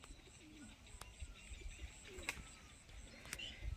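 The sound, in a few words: pigeons cooing at outdoor loft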